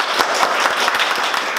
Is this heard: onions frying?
no